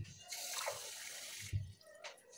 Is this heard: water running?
yes